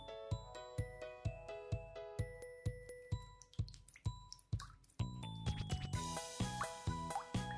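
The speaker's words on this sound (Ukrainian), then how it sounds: "Додай фарбу у воду." Paint dripping into a container of water, a steady series of distinct drips and plops, close and clear, with a brighter, busier stretch of liquid sounds near the end and no talk.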